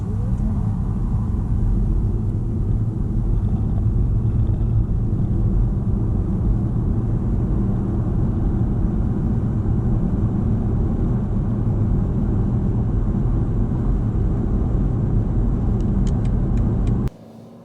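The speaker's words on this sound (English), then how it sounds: "As with all plug-in hybrids, you can set off and drive in electric-only mode." A BMW 330e plug-in hybrid moves off in electric-only mode, giving a steady low rumble of road and cabin noise for about seventeen seconds with no clear engine note.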